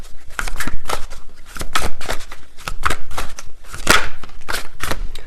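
Tea leaf cards being shuffled by hand, a close, loud series of riffling bursts and soft slaps repeating in an uneven rhythm with no talk.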